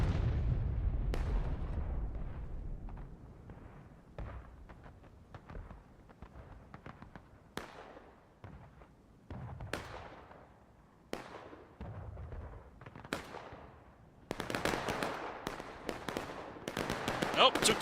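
Cannon fire in the Civil War video game War of Rights: a series of sharp booms spread across the stretch, some nearer and louder, others distant and echoing, ending in a dense burst of crackling shots, with occasional talk underneath.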